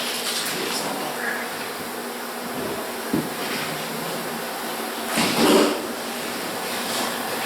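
Africanized killer bees swarm and buzz during a hive removal, a dense continuous drone close to the microphone with a few louder passes and faint knocks, no talking.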